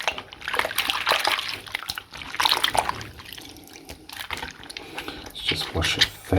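Water splashes and trickles while a vintage 1990s mermaid doll is washed, with sloshing and dribbling in bursts at close range and a person speaking over it.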